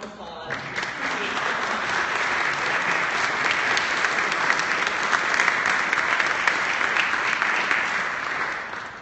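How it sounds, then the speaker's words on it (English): A lecture audience breaks into a full, dense round of applause that holds steady and loud for several seconds before fading slightly at the end. "Really just a round of applause."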